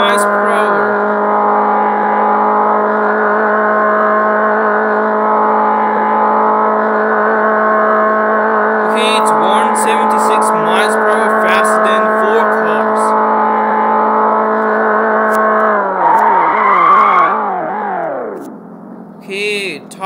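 A Japanese car in Extreme Car Driving Simulator holds a loud, steady engine whine at top speed, then drops pitch with a wavering sweep near the end; someone talks over it briefly.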